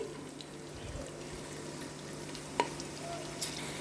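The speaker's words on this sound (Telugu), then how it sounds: "ఈ పోపు బాగా వేగాలి" Steady sizzling of tempering spices frying in hot oil for jeera rice, close and fairly soft, with a sharp crackle or pop partway through and no talking.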